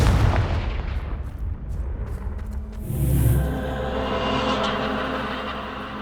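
Confringo blasting spell explosions in Hogwarts Legacy, with heavy booming blasts and rumbling impacts at the start and another deep burst midway, followed by a lingering low rumble and no talking.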